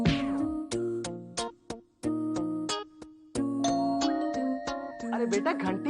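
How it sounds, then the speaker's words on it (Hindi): Musical ding-dong doorbell chimes ring out repeatedly in a rhythmic, tuneful pattern, loud and close, with short gaps between phrases, in a comedy TV serial setting. "घंटी बज रही है"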